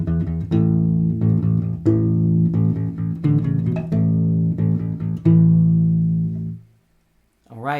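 A main theme, first two measures with pickup, played on a U-Bass: a run of plucked, rounded bass notes in steady rhythm, close and clear, ending with a sustained note and a brief pause.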